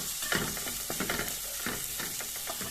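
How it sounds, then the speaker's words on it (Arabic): Onion and chili peppers sauté in a pan with a constant hissing sizzle and repeated stirring scrapes, heard up close and without talk. "لازم تديله تشويحه كده اهو مع البصله والقرن الفلفل."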